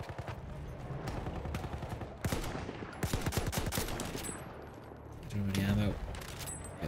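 Rapid machine gun bursts in the World War I shooter Battlefield 1, crackling in quick repeated volleys with a thud or impact near the end, loud and mixed with other game noise.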